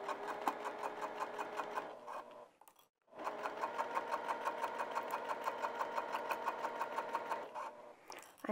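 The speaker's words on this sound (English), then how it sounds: "Now we're going to sew down that." A sewing machine runs a 3 mm stitch along a vinyl bag, a steady fast rhythmic whirr close by that stops briefly, then resumes for a long even run before ending.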